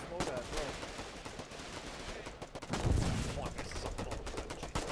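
Sustained machine gun fire in the World War-style online video game Foxhole: rapid, dense bursts rattle steadily throughout, with a heavier blast near the middle, and voices talk faintly underneath.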